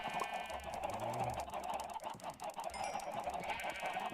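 Chickens clucking on a Minecraft farm, several short fowl clucks and squawks scattered over a busy background with faint game music, close and moderately loud.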